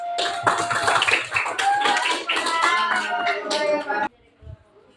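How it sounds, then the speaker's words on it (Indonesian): Applause in a classroom peer-teaching session: a dense, steady burst of clapping mixed with voices that runs for about four seconds and then cuts off abruptly into near silence. "Aplaus"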